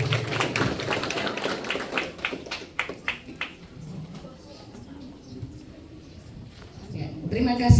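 Scattered clapping from a crowd at an Indonesian community organization ceremony, a burst of uneven claps that thins out into a few taps, with voices murmuring underneath.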